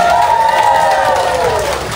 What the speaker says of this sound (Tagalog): Palakpak na guys, sigawan!